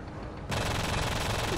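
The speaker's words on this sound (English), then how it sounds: "oh now they're shooting at me" Enemies firing in the Enter the Matrix PC game: a dense, continuous rattle of automatic gunfire that swells suddenly after a quieter opening and stays steady and loud to the end.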